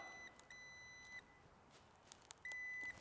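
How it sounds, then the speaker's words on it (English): A multimeter set to resistance gives its continuity beep while probing wiring on an RWD Magna car conversion, two steady electronic tones sounding about a second and half a second long, separated by quiet with faint clicks. "So that beep will mean that there's continuity between there."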